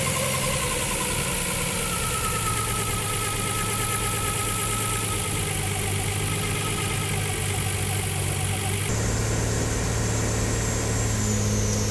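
A Nissan GT-R engine swapped into a Datsun 240Z idles steadily and loudly throughout, a constant close mechanical drone with a slight shift in tone near the end.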